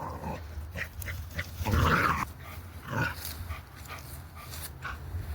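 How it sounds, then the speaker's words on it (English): Farm dogs give a few close barks and whimpers with soft panting between them, fairly quiet overall, with a louder burst in the middle. "I'm going to wrangle the dogs"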